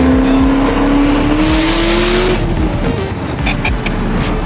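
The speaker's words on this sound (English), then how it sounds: "This car makes a lot of racket." A Chevrolet Camaro ZL1 1LE race car driven hard, its engine loud and close, revving up through a rising tone, then roaring on with heavy rumble.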